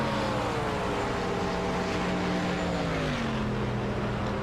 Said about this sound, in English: Love the sound of that Corvette driving by in that camera there.